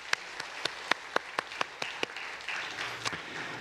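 A church congregation claps in encouragement during a Sunday morning service, a few distinct sharp claps first, then building into a short burst of scattered applause that fades, moderately loud in a reverberant room.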